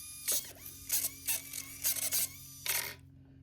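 A Hot Wheels Civic RC car's motor and steering run in short bursts: about six quick, high mechanical whirs with gear-like ratcheting, each separated by brief pauses. The sound is close and fairly quiet over a faint steady hum, then cuts to silence.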